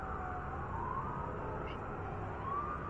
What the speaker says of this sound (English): That's an ambulance.